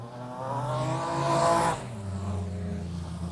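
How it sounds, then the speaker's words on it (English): A race car on a slippery oval dirt track revs hard, its engine note climbing to a loud peak and then dropping to a steady lower drone, close and continuous. "Billy du Plessis not scared to get the revs up on that car of his."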